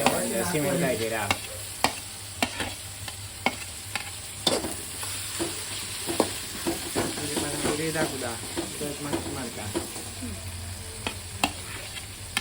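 Onion and tomato frying in a pan for a crab sukka, a steady sizzle broken by repeated sharp scrapes and clacks of a spoon stirring, close and fairly loud throughout.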